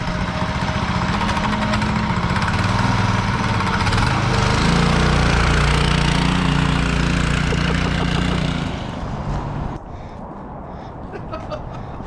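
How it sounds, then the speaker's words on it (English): A homemade go-kart built from a Yeti ice chest runs loudly close by, its small engine giving a steady rough chugging drone that drops off near the end, with no talking over it. "Yeti cart is half running"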